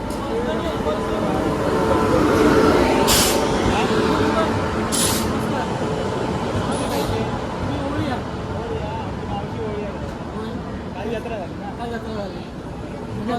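A Mumbai local train pulls into a crowded station with a steady, loud rumble and a few sharp hissing bursts, while people chatter throughout.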